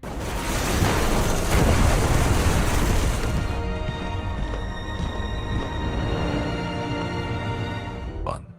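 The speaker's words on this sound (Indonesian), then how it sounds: "pesawat itu akhirnya jatuh dan meledak hebat" In an action film, a crashing plane's explosion erupts as a loud, sustained roaring boom, then fades into a lower rumbling tail with a faint tonal hum before a final short pop.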